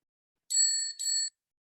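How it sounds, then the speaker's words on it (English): Two quick clear strikes of a conference session timer bell, the second following right after the first, each ringing brightly and briefly in an otherwise silent room. "the bell will be rung twice like this"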